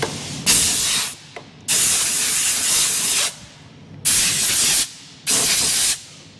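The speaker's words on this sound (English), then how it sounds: "I spray the contact cleaner on it, like so, and blow it off" Contact cleaner sprays onto a hydraulic hose in four loud, hissing bursts, each lasting about a second, with short quiet gaps between them, close up.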